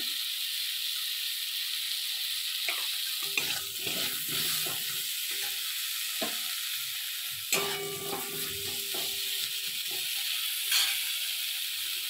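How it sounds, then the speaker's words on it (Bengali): Eggplant fries in a pan with a constant high sizzling hiss, while bursts of scraping and clattering from stirring come and go, up close and without speech. "আর এখানে বেগুনটা ভাজা হয়ে গেছে, হালকা করে আমি সব ভেজেছি"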